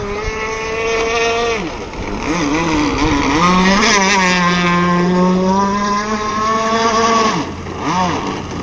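A Zippkits SLR Thunderboat RC model boat engine runs loud and close, its strong buzzing whine rising and falling in pitch as it is throttled back toward idle.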